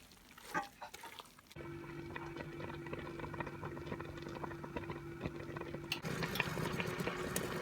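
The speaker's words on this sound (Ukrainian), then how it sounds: "нашу грибово-овочеву суміш ставлю на вогонь середній тушкуватися." A mushroom and vegetable mixture for mushroom caviar stewing in a pan over medium heat, a soft steady bubbling sizzle with a low hum, faint and close, preceded by a brief clatter.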